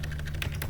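Computer keyboard being typed on while entering text into a Microsoft Excel spreadsheet cell, a short run of close, quick key clicks at steady volume.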